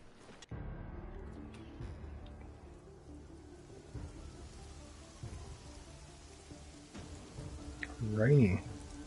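Steady rain falls in a rainy city scene in Deus Ex: Mankind Divided, a soft continuous hiss beneath faint ambient game sounds, with a brief louder tonal effect near the end.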